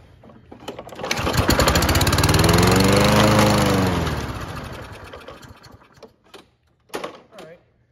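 A Toro Recycler lawn mower engine with a dirty carburetor and old fuel revs up into a loud, rough drone, then sags and dies away, followed by a couple of brief sputtering catches close by.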